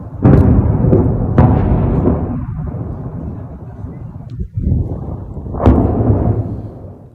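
Booming blasts from Israeli air strikes on Hamas positions in Gaza, several sharp explosions at irregular intervals over a rumbling, noisy background, with voices present underneath.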